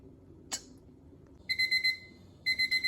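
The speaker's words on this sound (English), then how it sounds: "now our timer is done" A kitchen timer goes off while quinoa cooks: a soft click, then two bursts of rapid high electronic beeps, about four beeps each, a second apart, in a quiet room.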